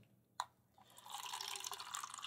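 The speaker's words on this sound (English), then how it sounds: "Let's pour it back." Water poured from a cup back into a container, a brief splash followed by a steady trickling pour that runs on for a couple of seconds, fairly close and quiet.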